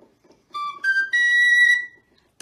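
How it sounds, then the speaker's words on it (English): A penny whistle plays three clear, bright notes rising in pitch, the last one held longer, followed by a brief click. "It's also a penny whistle."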